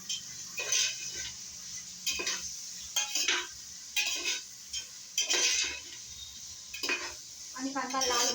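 Onions fry in a pan with bay leaf, cloves and pepper, a low sizzle under repeated metallic scraping and clinking of a spoon stirring against the pan.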